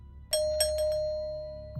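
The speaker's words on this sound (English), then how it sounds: "He rings the bell and waits." A doorbell at an apartment room door rings once, a two-tone ding-dong with a bright first chime and a long ringing tail, in an otherwise quiet space.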